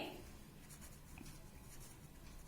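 A pen or marker scratches steadily on paper or a board while working a class 10 circle-area maths problem, a faint, continuous close-up scratching.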